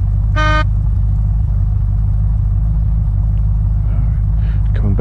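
A car in the game Unturned drives along with a loud, steady low engine drone throughout, a short horn-like toot near the start and brief tonal sounds near the end.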